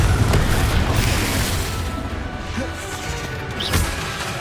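A Confringo fire spell explodes in the Hogwarts Legacy video game, a dense rumbling blast with crashing debris that sustains loudly and then tails off slightly, with a fainter burst near the end.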